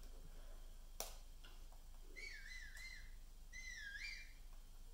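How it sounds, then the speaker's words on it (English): Link's whistle in the Nintendo Switch game Zelda Breath of the Wild: two short, wavering high-pitched whistles, each under a second, sounding clearly over a quiet game background with a faint click before them. "All right, so that's a whistle."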